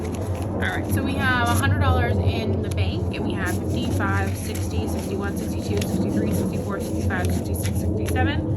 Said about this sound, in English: Sorry if you hear the plane flying overhead right now.